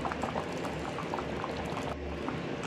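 Strawberry jam simmering in a pot, a steady, close bubbling and popping with a wet, thickening texture that runs without a break, with no talking over it.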